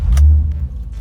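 A Nissan car imported from the UK, with an electrical fault, fires up: a brief click, then a loud, deep engine rumble that carries on steadily, heard close.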